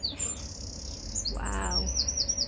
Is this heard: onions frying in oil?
no